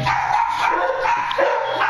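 Dogs in a home bark and yap continuously and close by, a loud, overlapping run of barks with no talk.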